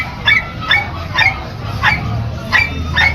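Dogs for sale at a pet market whimper and yip in a close, repeated series of about six high-pitched cries at a regular rhythm, with background murmur.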